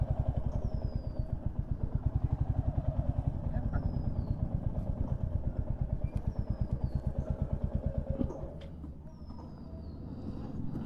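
A motorcycle engine putters with a steady rapid rhythm at the ISKCON Mayapur bike parking, close and fairly loud, then eases lower after about eight seconds; a voice talks over it and high chirps sound intermittently.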